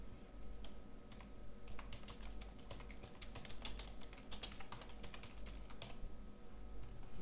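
Typing on a computer keyboard, a steady run of quick, light key clicks in close, dense bursts lasting several seconds, with no voice over it.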